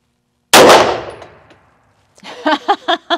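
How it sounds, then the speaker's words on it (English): One loud, sharp shot from a 9mm Grand Power X-Calibur pistol fired at a sweater target, ringing out and fading over about a second. Silence follows, then a voice speaks. "We're going to shoot this X-Calibur chambered in 9mm and put some holes through this sweater target"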